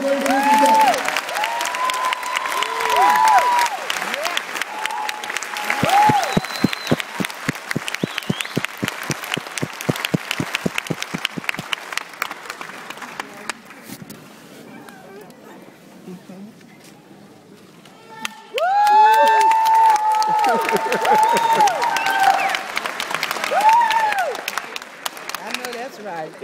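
Graduating class and audience at a DeVry University commencement applaud and cheer loudly; the clapping swells, eases off midway, then surges again, with a speaker's voice over it at times.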